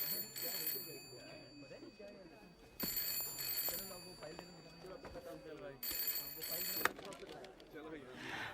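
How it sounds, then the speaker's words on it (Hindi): A telephone rings in an office, repeated bright trilling bursts roughly every three seconds, heard under people talking and background film music. "फोन बज रहा है तुम्हारा, उठाओ"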